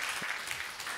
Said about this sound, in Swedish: ni kan klappa åt mig, för jag klappar vidare så här